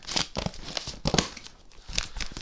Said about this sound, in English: Now I've got my trusty scissors once again. We're going to cut this on camera.